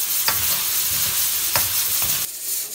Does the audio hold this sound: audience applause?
no